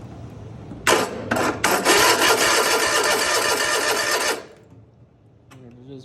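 A Cub Cadet zero-turn mower engine cranking on a weak battery in a cold garage, a sluggish grinding starter whir in a few short bursts, then one longer crank that stops without catching, recorded close.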